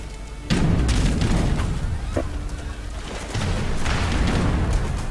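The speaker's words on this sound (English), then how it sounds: "Cannons trying to take out the ships, while the ships try to take out the cannons." Cannons and warships exchanging fire in the real-time strategy game Age of Empires 3, heavy overlapping booms rolling in loud, dense waves across the battle, with no voices.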